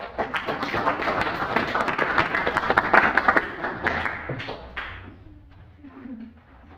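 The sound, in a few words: applause in classroom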